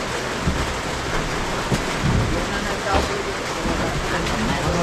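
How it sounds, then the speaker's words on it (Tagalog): Heavy rain pouring steadily, a dense loud hiss with occasional heavier splashes and drops, while people talk over it. "Grabe ang lakas ng ulan dito ngayon guys."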